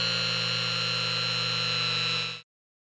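A small model 130 DC motor runs on DC voltage with a steady, even electric hum and whine, close and moderately loud, before cutting off abruptly after about two and a half seconds.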